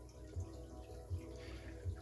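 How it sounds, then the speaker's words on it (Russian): Cold water from a tap slowly filling a home aquarium, a low steady trickle with soft splashing and a few brief gurgling pulses, faint and close. "вода поступает очень неспешно из крана. Да, это кран холодной воды"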